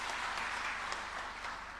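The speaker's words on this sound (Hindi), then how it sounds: "ताली बजाइए इस बात के लिए।" An audience applauding at a district panchayat gathering in Bhopal, a dense, even wash of clapping heard from a moderate distance for about two seconds.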